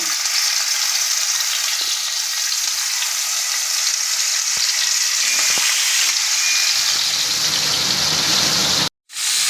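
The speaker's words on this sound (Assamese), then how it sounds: "এতিয়া মই মাছকেইপিচ ভালদৰে ভাজি ল'ম" Pieces of aari fish fry in hot oil, giving a loud, continuous close-up sizzle with crackling spatter that cuts out abruptly near the end.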